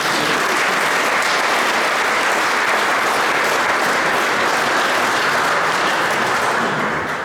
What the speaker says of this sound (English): So a round of applause for Alex Jones,